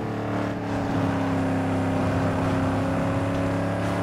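An SUV engine hums steadily in the Need for Speed: Underground 2 racing game, a constant, moderately loud drone with slight pitch wavering and no talking.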